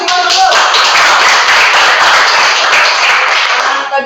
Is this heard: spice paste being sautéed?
no